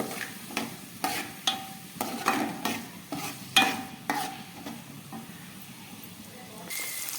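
Chopped spring onions frying in a pan for fish curry while being stirred, with a spatula scraping in a rough rhythm over a soft, continuous sizzle.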